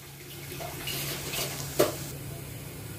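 Spices being stirred and mixed in a pan while cooking Nawabi sabut moong with Kashmiri red chili, dried coriander and turmeric, a soft continuous scraping and sizzle with one brief louder clink near the end.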